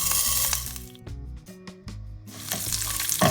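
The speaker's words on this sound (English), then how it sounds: "Now we are frying all these ingredients on medium heat" Hot oil crackles and sizzles in loud hissing bursts as spices for Goan crab curry fry on medium heat, easing briefly in the middle before building again, with a soft musical tone underneath.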